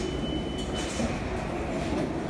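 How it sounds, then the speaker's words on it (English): Subway train pulling into a station on a snowy day in New York, a steady loud rumble of wheels and cars filling the platform with broad continuous noise, no talking. "My train coming right now."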